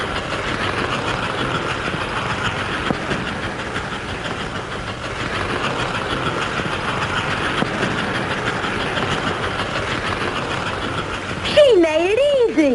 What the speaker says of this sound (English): We're going into the grade on Bald Mountain. Watch that locomotive work. Wow, look at that engine climbing.